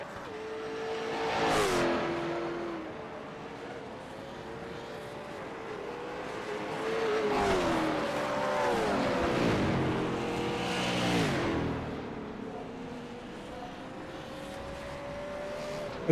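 Late model stock cars race at Circuit Gilles Villeneuve in Montreal, several engines roaring past one after another, revving up and shifting through gears as they sweep by at a moderate distance.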